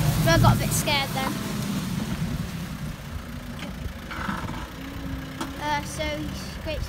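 A Case Farmall 55C tractor engine running in a farm shed area near cows, a low steady idling rumble under frequent talk, moderately close and fairly quiet.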